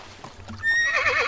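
A horse in the medieval game Medieval Dynasty gives a loud, wavering whinny after a few soft hoof sounds, alone without talk.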